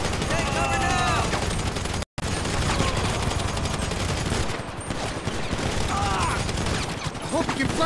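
Heavy gunfire during a construction-site assassination mission in GTA 5, continuous loud rattling shots mixed with shouting voices and game sounds, with a brief dropout partway through.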